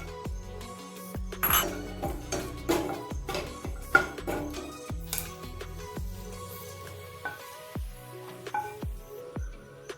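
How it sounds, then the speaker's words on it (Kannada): Cashews being fried in a pan clink and tick in quiet, irregular bursts as they are stirred, with light scraping between the sharper taps and no talking. "ಈಗ ಗೋಡಂಬಿನ ಫ್ರೈ ಮಾಡ್ತಾ ಇದ್ದೀನಿ."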